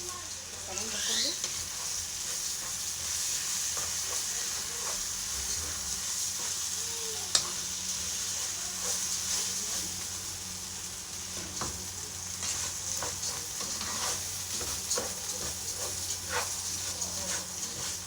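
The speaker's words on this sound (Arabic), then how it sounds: "معايا هنا ملح وورق لورا وحبهان، واقلب كويس" Salt, bay leaves and cardamom stirred in a hot pot in a home kitchen for an Egyptian dish, a soft continuous sizzle with scraping and clinks of the spoon throughout.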